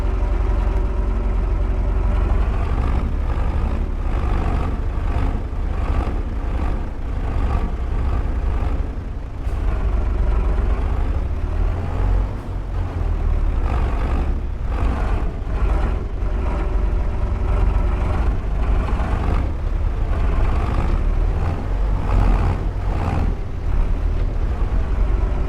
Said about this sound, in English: let's get our tractor, who is still running